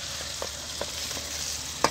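Mutton pieces sautéing in a pan with ginger-garlic paste for biryani, a steady close sizzle broken by a few soft spoon scrapes and a sharp clink near the end.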